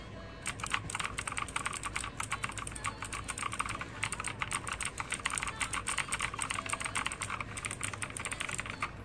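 Quick, steady typing on a NUBWO Centennial X10 v2 mechanical keyboard with clicky blue switches, each press a crisp tick, close by and fairly quiet.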